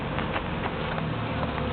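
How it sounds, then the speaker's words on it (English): Honey bees swarm at the entrance of a new hive in New Berlin, Wisconsin, a close, dense and steady buzzing hum with individual bees flitting past, heard alone without voices. "all those bees are bearding on the front because they're looking for their queen"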